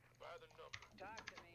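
Keyboard and mouse clicks from a streamed computer game session, scattered light taps mixed under a voice talking close to the microphone.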